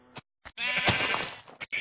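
Sheep bleating in the Minecraft video game, a few short bursts and then a longer, loud, wavering bleat close by with no talk over it.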